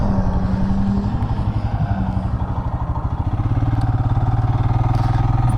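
Royal Enfield Himalayan motorcycle riding with a booster and AIS mod, its engine and exhaust thumping loudly and steadily throughout, a deep pulsing rumble that holds close and constant for the whole stretch.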